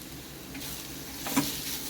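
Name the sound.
bombil (Bombay duck fish) sautéing over low heat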